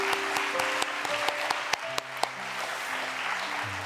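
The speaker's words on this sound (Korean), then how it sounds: "우리 박수하겠습니다" A church congregation applauds during a New Year's Eve worship service. The clapping is dense and sustained, with a few sharper individual claps standing out over soft, steady keyboard tones underneath.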